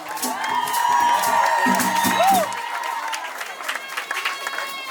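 Guests at a customary wedding cheer and whoop together, a loud, sustained crowd roar with shouts rising over it, then settling into a softer murmur of voices.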